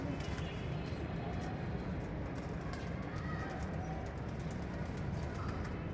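Pigeons coo on a rooftop under a constant wash of outdoor background noise, the calls faint and blended into the ambience.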